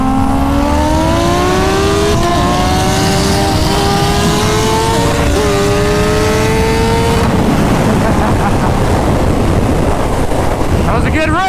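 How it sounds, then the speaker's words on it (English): A 1200 wheel-horsepower twin-turbo Lamborghini and a stock 2019 Kawasaki H2 Carbon race at speed, engines whining upward through the gears loud and close under heavy wind buffeting, before the pitch breaks into rushing roar. "1200 wheel horsepower Lamborghini, stock 2019 H2 carbon."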